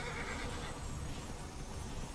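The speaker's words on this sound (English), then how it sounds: "So as you can see, I picked up another horse, too." A horse whinnies in the video game Immortals Fenyx Rising, a loud and dense neigh that fills the short moment with no talk over it.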